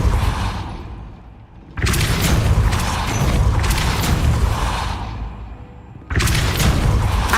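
A heavy gate mechanism in Hogwarts Legacy grinds into motion after the Depulso spell, with deep booming rumbles that fade and then surge loudly again.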